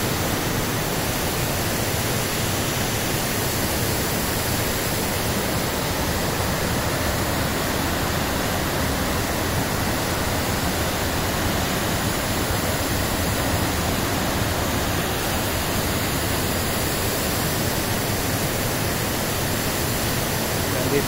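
Pinsal Falls in Ilocos Sur pours with a strong current, a dense, constant roar of rushing water heard up close and unbroken throughout.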